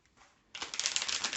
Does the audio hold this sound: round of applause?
no